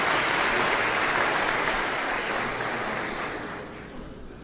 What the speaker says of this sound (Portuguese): Vamos receber com muito carinho, com uma salva de palmas, o pastor Allen Porto